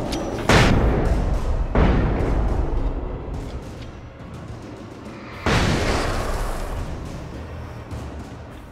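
Booming gunshots in the video game Alan Wake ring out with long echoing tails, three big reports spaced apart over a steady rumbling din of sirens and a buzzing helicopter.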